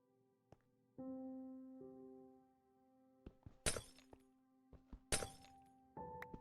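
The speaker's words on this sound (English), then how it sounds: "It always feels so wrong breaking glass, like the sound that it makes" Glass blocks shattering in Minecraft: two loud crisp breaking crashes about a second and a half apart, among sustained game tones and a few small clicks and thuds.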